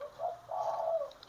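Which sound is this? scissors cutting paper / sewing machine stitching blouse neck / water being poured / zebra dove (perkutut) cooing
zebra dove (perkutut) cooing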